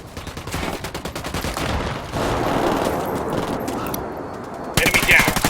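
Rapid automatic gunfire crackles in Ghost Recon Wildlands combat, with near bursts continuing nonstop and a louder volley near the end. Voices are faintly audible under the shooting.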